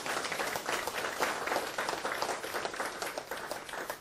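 Audience applause at a lecture on Korea–Japan diplomatic normalization, a dense, steady spread of many hands clapping throughout, fairly close and continuous with no talk over it.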